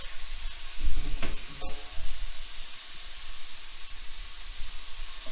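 Garlic cloves sizzle in a pan over medium heat, a soft continuous frying hiss with a couple of sharper clinks and scrapes near the start as the cloves are moved around.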